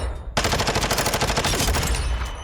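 Rapid automatic fire from a Vaznev assault rifle in Modern Warfare 2 bursts in after a brief quiet moment, a loud, dense stream of shots that continues steadily to the end.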